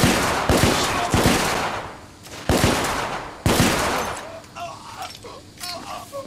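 Gunfire in The Order: 1886, a volley of loud, close shots bursting at about 0.5, 1.1, 2.5 and 3.5 seconds, each trailing into rumbling decay, with shouted voices breaking in near the end.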